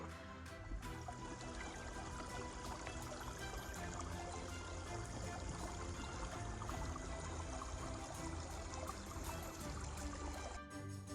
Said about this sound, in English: We got to the mountain creek.